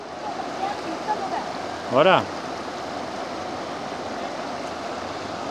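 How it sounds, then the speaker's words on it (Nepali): The Sunkoshi river at Dolalghat rushes with a steady, even roar of flowing water close by. A person's voice briefly speaks over it midway. "क्या आवाज छ है खोलाको कल कल कल कल।"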